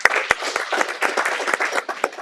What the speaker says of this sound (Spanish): Dale un aplauso al Señor por esta palabra.